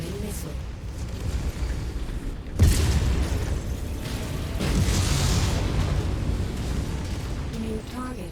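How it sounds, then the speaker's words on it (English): Incoming missile explosions in the MechWarrior 5 video game: a sudden heavy boom followed by a sustained, dense rumbling roar of blasts and mech combat, loud and continuous for several seconds. "Incoming missile."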